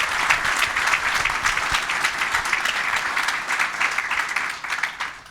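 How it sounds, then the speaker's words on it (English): A webcast launch event audience gives a brisk round of applause, dense and steady with sharp individual claps standing out, tapering slightly at the end. "let's give another quick round of applause for the gentleman on the stage"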